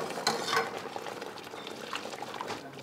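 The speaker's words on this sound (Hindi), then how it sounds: "दही पक गया है और मिला देते हैं गर्म पानी" Hot water is poured into a yogurt-based paneer butter masala gravy in a pan, giving a soft steady pouring and bubbling sound, close and moderately loud, with no talk.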